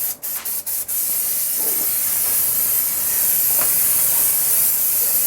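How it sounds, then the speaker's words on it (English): A close, loud, continuous hiss of brake parts cleaner aerosol sprayed onto car brakes, starting with a few short bursts and then running as one long steady spray with no talk. "personally I just use one of these brake parts cleaner here"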